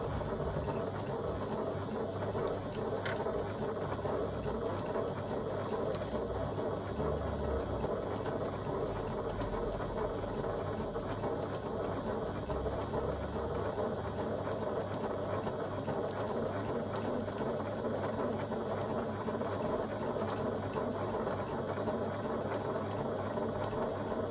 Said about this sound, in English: So just a couple of back stitches to start with, just to secure my stitching.